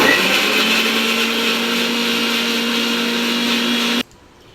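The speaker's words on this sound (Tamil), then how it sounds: "இதை எல்லாம் போட்டு நம்ம அரைச்சிட்டு பார்த்துக்குவோம்ப்பா" A mixer grinder whirs steadily and loudly, grinding shallots, ginger and garlic for a goat liver gravy, then cuts off abruptly near the end, leaving quiet room tone.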